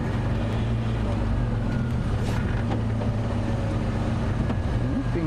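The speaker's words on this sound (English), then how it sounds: "It's a rather disturbing noise coming from the engine." An idling safari game-drive vehicle engine makes a steady, rough rumble with a droning low hum throughout, close and continuous, with faint outdoor background.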